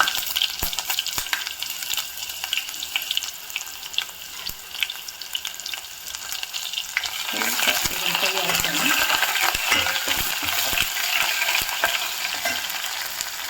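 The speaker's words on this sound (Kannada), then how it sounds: "ಹಾಗೆ ಈರುಳ್ಳಿ ಹಾಕ್ಕೋತಾ ಇದ್ದೀನಿ, ಕಟ್ ಮಾಡಿರೋದು." Cumin seeds and chopped onion frying in hot oil in a pan, a steady close sizzle that swells louder halfway through as the onion goes in, with occasional stirring clinks.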